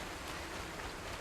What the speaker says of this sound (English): Oh, it's the sound of water.